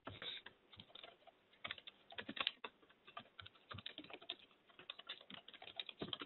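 Fast, continuous typing on a computer keyboard, close and quiet, with irregular clusters of light key clicks and no talking.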